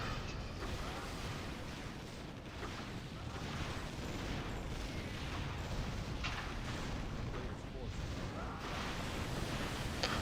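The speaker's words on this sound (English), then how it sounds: "playwithnoob saved by that one little ballista artillery." Ballista artillery fires in a Warcraft 3 Battle Tanks match amid a dense, loud, continuous barrage of game combat noise with repeated booming impacts.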